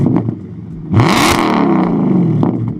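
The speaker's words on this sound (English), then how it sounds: "It's got like a straight pipe legal exhaust, apparently." An Audi S5 V8 with a straight-pipe exhaust, loud and close: a brief idle burble, then a sharp rev that swells into a harsh, sustained engine roar before easing off near the end.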